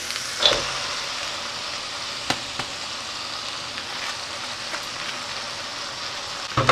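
Greens frying in a pan, a steady soft sizzle with occasional faint clicks and a small clatter at the start and end, no voices.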